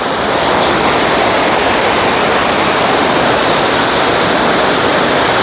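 Loud, steady roar of a waterfall throwing spray near Tatev monastery, a dense unbroken rush of falling water filling the whole stretch with no voices.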